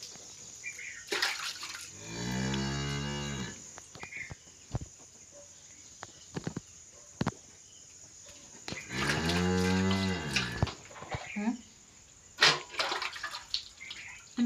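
A cow moos twice during hand milking, two long, loud, drawn-out calls near the start and middle, with scattered clicks and knocks of the barn between them and a faint steady hiss underneath.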